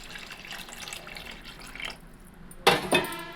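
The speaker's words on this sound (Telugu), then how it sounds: "అలాగే 1 గ్లాసు వాటర్ వేసుకోండి." Water pours into simmering tamarind fish curry made with murrel fish. A short, bright splash comes near the end, after a low kitchen background with faint clinks.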